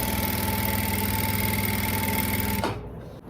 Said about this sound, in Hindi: इस तरह हम आसन की सिलाई को पक्का कर लेते हैं।